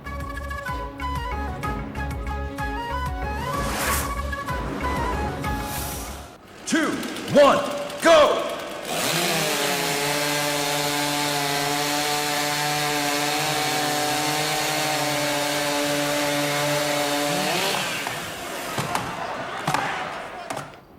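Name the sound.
saws and axes cutting wood at timber sports championship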